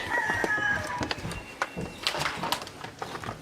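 Young silkie chicken chicks peep and cheep in quick, scattered bursts close by, over a busy background of other clucking fowl on a farm, with no talk.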